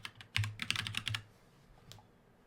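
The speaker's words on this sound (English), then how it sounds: "I guess I should type workaround." Quick burst of keys being typed on a computer keyboard, a close run of crisp clicks lasting about a second, followed by a pause and one last keystroke.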